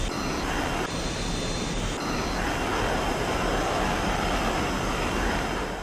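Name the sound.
fighter jet taking off in the video game Over G Fighters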